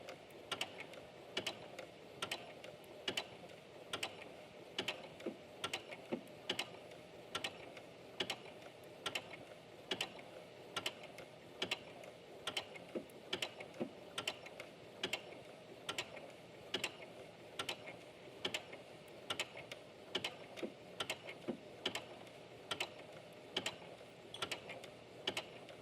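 A domestic sewing machine stitches a straight seam while thread is held taut, its needle clattering in a rapid, steady mechanical rhythm of close, evenly spaced ticks, running continuously without pause.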